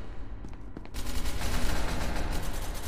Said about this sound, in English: A Russian person shooting and missing?